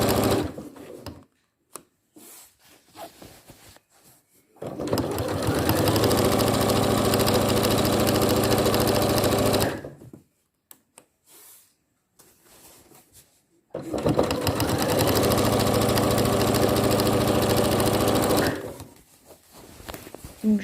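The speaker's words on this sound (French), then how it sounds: "je vais engager ma matière sous la machine, toujours à 10 mm, et je démarre avec un point d'arrêt" A sewing machine runs two long stitching bursts on a gown seam, each a steady whirring, rattling hum lasting several seconds, separated by quiet pauses with small handling clicks as the fabric is repositioned.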